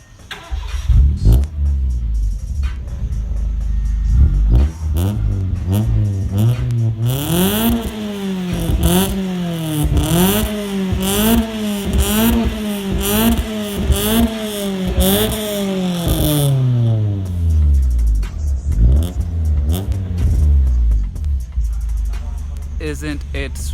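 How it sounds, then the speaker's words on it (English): Modified Honda City Type 2 exhaust revving, a loud close rumbling engine blipped up and down repeatedly in rising and falling sweeps, then settling back to a throaty idle. "So now let's check out how the exhaust sounds."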